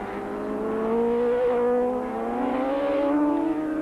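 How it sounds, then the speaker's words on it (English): A Honda VF 1000 superbike at a 1985 superbike race roars steadily nearby, its engine note climbing in pitch as it speeds past. "is now riding the Bennett Honda VF 1000 Superbike"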